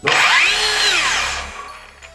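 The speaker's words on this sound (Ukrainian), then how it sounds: "тут присутній плавний пуск та швидке зупинення пильного диску" A Metabo KT 18 LTX 66 BL cordless plunge saw spins up with a soft start to a loud, high whine, then winds down quickly as its blade brakes to a stop, with no talk over it.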